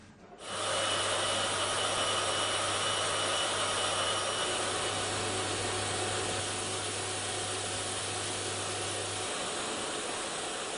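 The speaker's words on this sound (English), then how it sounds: "5 experts, 30 different vacuum noises." A vacuum cleaner starts up and runs continuously with a loud, steady whooshing roar and a low hum, close by.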